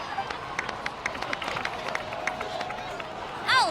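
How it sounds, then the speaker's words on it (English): Video game crowd applauding heroes at a celebration for Kachina's return: dense, steady clapping fills the whole stretch at moderate loudness, ending with a brief rising whistle-like chirp. "So, please give another round of applause for them."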